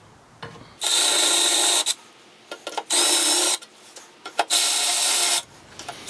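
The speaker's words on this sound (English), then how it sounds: "I'm going to mark this just using the same drill bit" A drill whirs in three long bursts separated by short pauses with small clicks and handling noises, fairly close, as a drill bit marks holes for a table saw upgrade.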